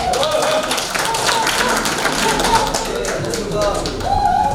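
An audience applauds at a political forum and training session as a lawmaker is called to the podium. The clapping is dense, steady and continuous, with faint voices mixed in.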